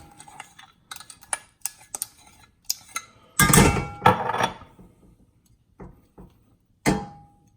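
Philadelphia cream cheese being scraped and knocked into a pan produces a string of light clicks and taps, then a louder clattering burst of utensil against metal, followed by a few scattered knocks.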